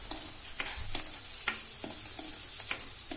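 Bell peppers sauté in a pan for risotto, a soft steady sizzle with regular scraping stirs every half second or so.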